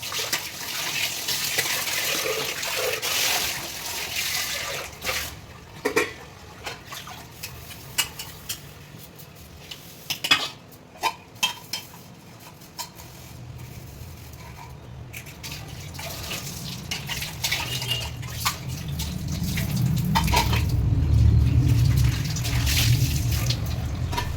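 Water runs from a household tap as dishes are washed, with scattered clinks and knocks of utensils and pots, then a louder rushing flow of water toward the end.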